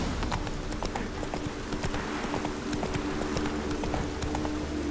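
Hooves of Roach, a horse in the video game Witcher 3: Wild Hunt, clop steadily and continuously in a brisk rhythm over a dense game ambience, close and loud.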